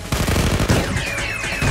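Rapid bursts of gunfire in Blue Archive crackle in a dense, loud volley, then give way to a thin high whine.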